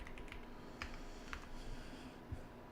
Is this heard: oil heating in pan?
no